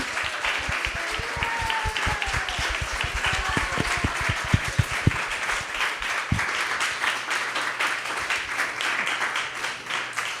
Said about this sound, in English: let's give a round of applause for all our participants